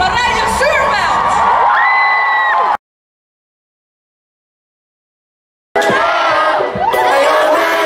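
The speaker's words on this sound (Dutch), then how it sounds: "Geef een groot applaus voor beste vrouw 2019, Marije Zuurveld!" Crowd at the VEED Awards 2019 in AFAS Live, Amsterdam, roaring, whooping and cheering with applause over loud music, broken by a few seconds of total silence before the noisy cheering resumes.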